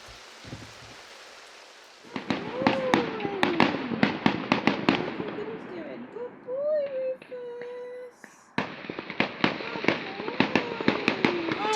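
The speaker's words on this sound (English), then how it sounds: "Turns out we're moored right next to a fireworks display" Fireworks display going off near a moored narrowboat, a rapid series of sharp cracks and pops with whistling rockets, moderately distant and steady, pausing briefly before resuming, with light rain in the background.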